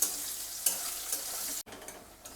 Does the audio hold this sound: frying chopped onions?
yes